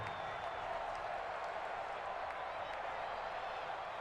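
Crowd noise in the Madden NFL 20 video game during a Broncos vs. Raiders simulation, a steady, fairly faint roar of a stadium audience getting louder around a big third down, with no speech over it.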